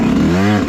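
Dirt bike engine on a rough, well-used trail track, a short close burst of revving with a rising pitch.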